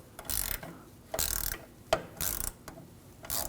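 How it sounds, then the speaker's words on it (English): A wrench loosens a nut on the level sensor stud of a 2007–2013 BMW 328i rear suspension, giving close ratcheting bursts in four short clicking runs, with a sharp metallic tick between them. "And loosen that nut up."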